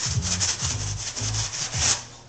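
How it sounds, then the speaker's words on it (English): A sharp-edged steel knife burnishes Venetian plaster on a wall, giving loud, close, rhythmic rubbing scrapes in quick overlapping strokes with no voices. "what happens when you burnish"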